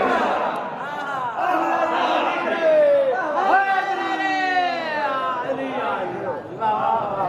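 A crowd at a Shia majlis chants religious slogans together in loud, drawn-out unison calls that rise and fall over several seconds, filling the hall.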